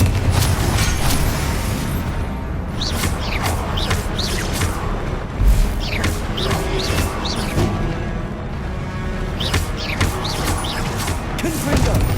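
Repeated Confringo blasting-spell explosions in the Hogwarts Legacy video game, a dense run of booms and crashes amid continuous combat noise, with bright spell effects scattered throughout and no talk.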